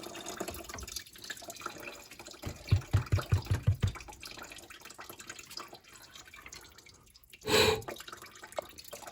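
Coolant dripping steadily from a Nissan Maxima radiator as it drains during replacement, a quick run of close, distinct drips followed by a brief splashy burst, alone with no talk.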